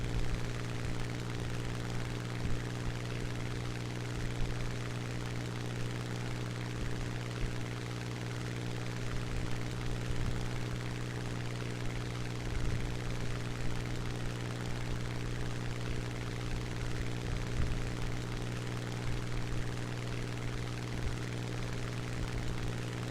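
A Hurricane Mk IIB fighter plane's engine drones steadily in War Thunder, a loud continuous propeller hum with a fixed tonal pitch that holds unchanged for the whole stretch, close and alone with no voices.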